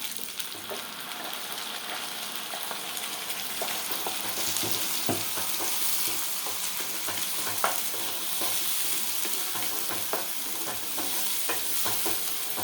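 Ground masala fries with onions and curry leaves for a thondekai curry, a soft continuous sizzle broken by frequent scraping and tapping of a spoon stirring close by.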